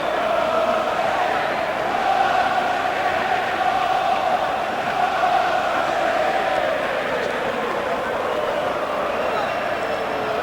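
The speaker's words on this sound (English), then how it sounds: "Listen to the Brits cheer" British crowd at a heavyweight boxing rematch between Lennox Lewis and Evander Holyfield cheering in a continuous roar that fills the arena, with a commentator's voice running over it.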